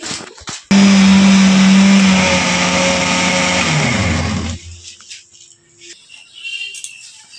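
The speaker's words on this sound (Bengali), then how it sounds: "এই একটু নুন দিলাম, দিয়ে আবার মেশিনে ঘুরিয়ে নেবো" A kitchen blender grinds coriander chutney with a little salt, whirring loudly for several seconds before winding down and stopping. Quiet handling sounds follow.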